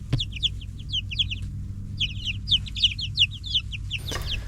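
Chickens clucking and chattering in a backyard coop, busy overlapping calls close by and over a low outdoor hum, with a sharp knock at the start and another near the end.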